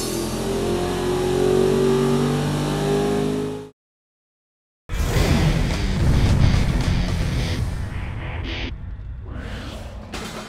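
347 short block engine on a dyno, first a steady loud hum that cuts out, then after a brief silence a rough, loud revving run with shifting pitch, close up and without talk.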